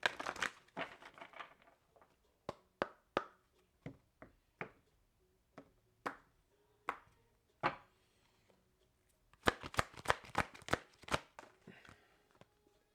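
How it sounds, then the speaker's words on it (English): Tarot cards are shuffled and tapped in quick bursts, a series of crisp slaps and riffles separated by short pauses, close and fairly quiet. "Last shuffle."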